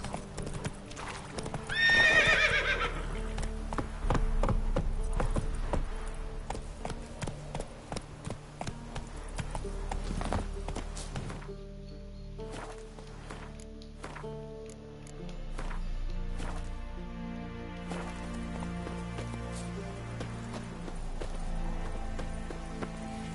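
Roach the horse gallops in Witcher 3 with steady, rhythmic hoofbeats and a sharp neigh near the start, while music plays underneath throughout.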